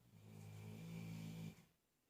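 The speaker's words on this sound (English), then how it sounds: "The snoring is my dogs." Dogs snoring nearby in a room where acrylic paint is being mixed, a deep rumbling snore that holds steady for about a second and a half and then cuts off, leaving near silence.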